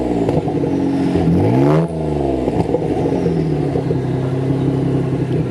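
A Lexus SC300 engine revs up close and loud, climbing in pitch, dropping back sharply, then settling into a steady idle rumble.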